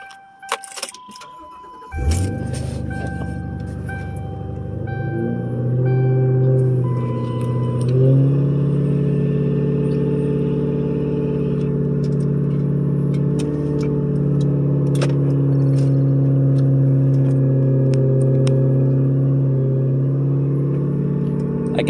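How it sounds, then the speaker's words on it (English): A car engine cranks and catches, then settles into a steady, loud idle with a brief rise in revs during a valve and induction cleaning service. Light rattling and jangling come just before the start. "go in the vehicle, start it."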